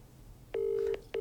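A phone call's ringing tone plays as two steady electronic beeps, the first long and the second starting just before the end, fairly clear over a faint background hiss.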